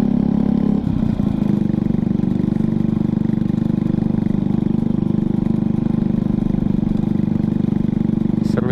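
A small BMX-style motorbike engine drones steadily and loudly close by throughout a test ride, a continuous mid-pitched hum with no break, and a voice is faintly mixed in beneath it.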